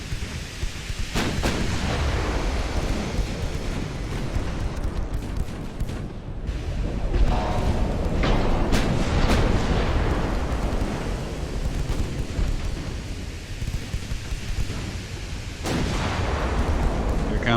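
Heavy warship gunfire in the naval game Ultimate Admiral: Dreadnoughts, with repeated booming salvos rolling over continuous loud rumble and a voice talking at times.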